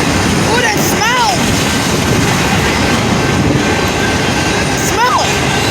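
A train passing at Willis Road in Willis, Michigan, a loud continuous rumble of rail cars close by, with squealing wheel screeches rising and falling near the start and end.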